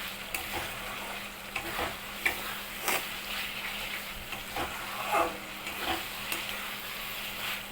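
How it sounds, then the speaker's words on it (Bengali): Fried potatoes and prawns are stir-fried in oil, a moderate crackling sizzle broken by repeated scraping and stirring strokes of a spatula against the pan, fairly close and without speech. "ভাজা আলু আর চিংড়ি মাছটা দিয়ে আবার একটু কষাতে থাকবো।"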